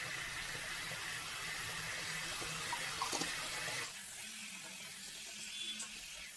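Chicken frying in oil in a pan for a chicken kosha recipe, a continuous hissing sizzle with a few clinks of stirring, dropping to a quieter sizzle partway through.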